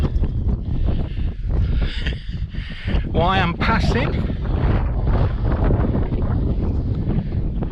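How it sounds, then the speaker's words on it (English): Strong wind in the Derbyshire Dales buffets the microphone with a constant low roar while someone speaks briefly over it. "Very windy, as you can hear."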